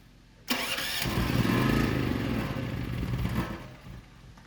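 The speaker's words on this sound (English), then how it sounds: "Oh, we ran out of gas in the generator." A gas generator on a deck-building site cranks into life with a sudden loud start, runs in a rough close rumble for a few seconds, then fades and sputters down.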